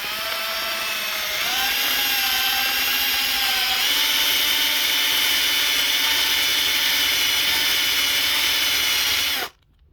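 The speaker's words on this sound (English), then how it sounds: "I'll turn the drill on while I hold this, and I'll just twist this." Power drill widening a hole in a bathroom sink during a mobile home faucet replacement, a steady whining drone that climbs in pitch as it bites, runs close and loud for about nine seconds, then cuts off abruptly.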